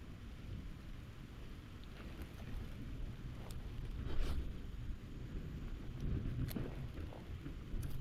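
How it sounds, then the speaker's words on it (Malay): Steady rain falls outdoors beside a blackwater ditch during a snakehead fishing trip, a continuous close wash of drops with faint distant rumbles, no voices. "Akhirnya hujan sampai guys."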